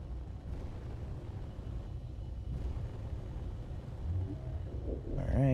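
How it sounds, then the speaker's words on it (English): A meteor storm rumbles through a Space Engineers game world, a loud, continuous low roar with a few swelling surges, building toward the end with a brief tonal warble over it. "Meteor storm inbound."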